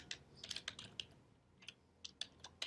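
Quick bursts of typing on a computer keyboard while writing Swift code in Xcode, with irregular clusters of close, crisp key clicks separated by short pauses.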